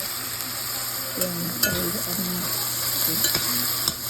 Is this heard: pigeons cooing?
no